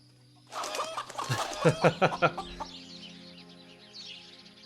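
Chickens clucking in the fantasy game Swordhaven: Iron Conspiracy, a burst of close, rising clucks and squawks peaking in a quick run of loud calls, then trailing off into quieter clucking over ambient game background.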